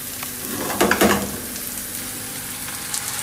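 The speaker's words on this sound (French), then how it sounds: "je vais rajouter ma petite préparation ici de tomates et d'ail" A tomato and garlic preparation hits a hot pan for a chicken curry, giving a brief louder sizzle burst that settles into a steady close frying hiss.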